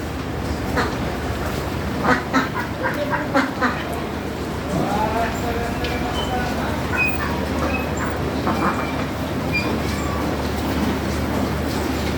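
Ducks quacking on a small farm kept alongside goats, cows and chickens, with repeated calls scattered over a steady low background rumble and some voices nearby.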